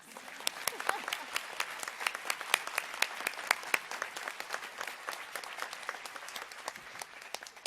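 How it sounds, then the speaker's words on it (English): Sustained applause from a large conference audience at an awards session, dense crisp clapping that holds steady throughout with no voices rising above it. "Now, thunderous applause."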